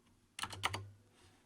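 A few quick keystrokes on a computer keyboard, about four or five close, crisp clicks in a short burst while entering a keyframe value, then quiet.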